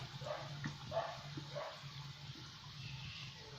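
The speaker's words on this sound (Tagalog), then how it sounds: "Daming aso." Several dogs bark faintly at a distance, with a few scattered yelps standing out over a steady sizzle of French fries frying in oil in a home kitchen.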